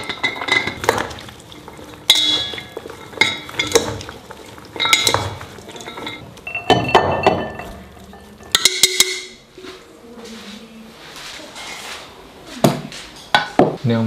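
Houttuynia (fish mint) salad being tossed in a bowl with chili oil, soy sauce and aromatics, giving repeated clinks and scrapes of utensils against the dish and wet mixing sounds, close and fairly loud.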